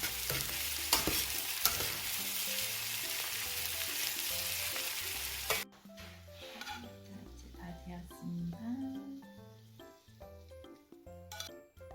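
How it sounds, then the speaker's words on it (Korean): Food fries in a de Buyer iron pan while steak is cooked, a bright sizzle with stirring scrapes over a faint musical background, the sizzle dropping off midway and leaving softer tossing sounds. "타지 않을 정도로 계속 이렇게 뒤적거려 주시면 돼요"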